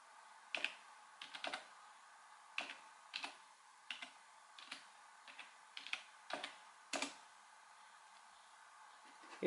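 A computer keyboard connected to a smartphone being typed on, with scattered short bursts of clicky keystrokes in irregular clusters, close and fairly quiet in an otherwise still room.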